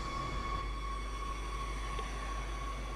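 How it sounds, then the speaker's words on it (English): A train running in the Train Sim World: Rapid Transit game: a low, steady rumble with faint sustained tonal whines, even and unbroken throughout. "sounds like the train that runs to Poznan"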